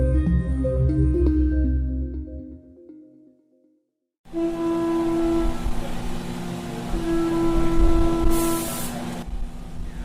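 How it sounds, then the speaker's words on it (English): Machinery making nuclear weapons parts at Los Alamos National Laboratory: a musical lead-in fades to a brief silence, then a steady industrial hum with a sustained whine starts, followed near the end by a short burst of hissing spray. "That's the sound of manufacturing at Los Alamos National Laboratory"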